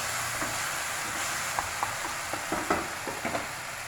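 A loud, steady sizzle of spices frying in hot oil, with scattered small pops and crackles growing busier toward the end.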